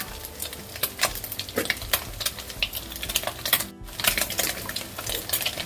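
Fried rice is stir-fried in a pan, with a dense, continuous sizzle broken by quick, rhythmic scraping and tossing clatter from a spatula.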